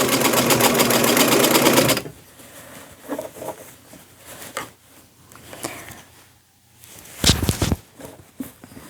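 A sewing machine stitches through knotted braided fabric for a boho beach dress: a loud, steady mechanical stitching run opens the clip and stops, followed by quieter handling sounds and a brief loud burst near the end.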